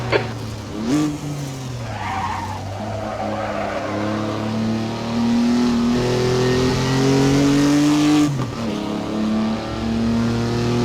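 A 1959 Jaguar Mk2 hot lapping Donington Park National Circuit in Assetto Corsa, its engine note climbing through gears and dropping on downshifts, with skidding tire noise, steady and close throughout.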